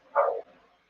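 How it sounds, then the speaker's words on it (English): A single short, fairly loud dog bark sounds nearby in a workshop, followed by quiet. "sorry about my dog barking."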